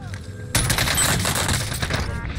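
Dense bursts of automatic gunfire in Call of Duty Black Ops multiplayer: a quiet lead-in, then loud, continuous overlapping shots and fusillades that run to the end.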